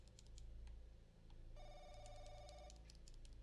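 A video game telephone rings in a quiet, eerie interior. A repeated electronic bell trill sounds at moderate level over a low ambient hum, with no one speaking.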